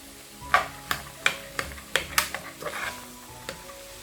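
Green peas being sautéed in a pan for a dhaba-style matar masala, with a series of sharp scraping stirs and clinks of a spoon against the pan over a faint background sizzle.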